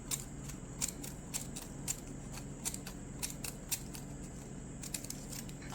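Scissors cutting down a strip of playbill paper, a faint series of crisp, irregular snips spaced about half a second apart over a low steady hiss, with no voices.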